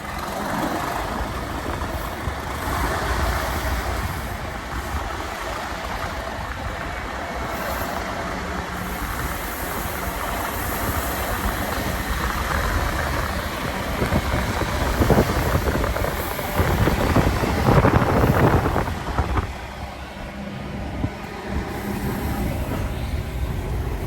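A Class 37 diesel locomotive races alongside a Turbostar train, a loud sustained rumble of engines and rolling rail noise that swells near the middle and then drops back to a steady roar.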